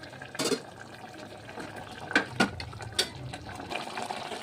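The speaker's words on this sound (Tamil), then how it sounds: "இதுக்கு தேவையான தண்ணி ஊற்றிக்கணும்." Water is poured into a masala curry during cooking, heard up close as a few short splashes and gurgles over a soft background hiss.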